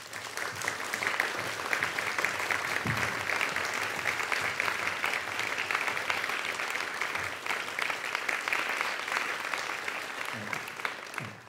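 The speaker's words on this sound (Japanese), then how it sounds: "拍手をお願いします。" Sustained applause from an audience at a music-theatre rehearsal with clarinet, dense and steady clapping throughout with a low murmur underneath.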